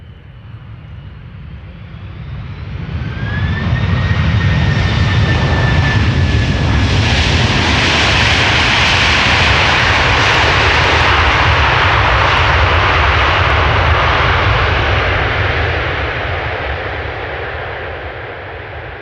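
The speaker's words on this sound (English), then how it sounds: "That was Delta Airlines Flight 136, using the reversers quite nicely" A Delta Airlines jet lands at Amsterdam Schiphol with its thrust reversers deployed, a loud, broad roar that swells within a few seconds, holds for about ten seconds with a rising whine, then slowly fades.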